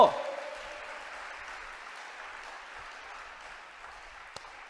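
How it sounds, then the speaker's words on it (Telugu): A church congregation claps together, a burst of applause that starts sharply then settles into a sustained, fairly distant patter for several seconds. "చప్పట్లు కొట్టు"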